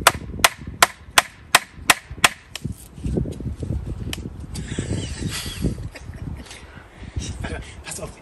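Hammering on wood in an allotment garden, a regular series of sharp close blows at first, then scattered knocks under people talking.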